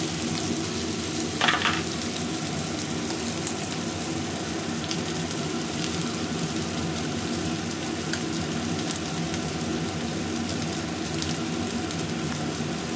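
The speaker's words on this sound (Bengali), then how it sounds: "এই চিংড়ি মাছটা হালকা ভাজিয়ে তারপরে আমি রসুন আর পেঁয়াজটা একসাথেই ভাজবো" Shrimp sizzling steadily in a hot pan, with garlic and onion to follow, a dense continuous frying hiss throughout with a brief clatter near the start and no talk.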